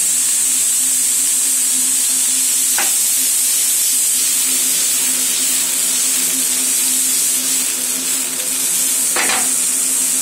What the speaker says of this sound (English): Throw this cauliflower in there. It's already roasted. I'm basically just adding a little flavor to it. Drop this butter in there.